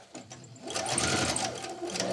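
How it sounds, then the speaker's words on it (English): A sewing machine stitches outdoor plastic chair slipcover fabric, starting with a short burst and then running steadily and close for about two seconds, with no talking. "So you start 5/8 of an inch in and back stitch from your piece that's underneath."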